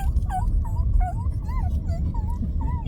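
Several dogs bark and yip in quick repeated bursts over a low, constant vehicle rumble, the high yelping calls fairly close and coming roughly twice a second.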